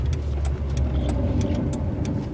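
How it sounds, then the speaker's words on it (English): A car with worn, bad-sounding brakes: engine rumble under driving with scattered short scraping, squealing bursts, close and moderately loud, no talk. "That's just the brakes. Yeah,"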